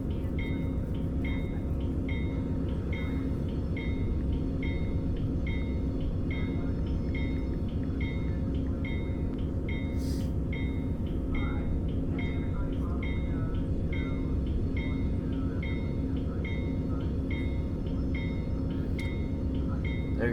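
A train rolls steadily along the rails with a continuous loud rumble, overlaid by a regular, evenly spaced clicking beat that repeats throughout.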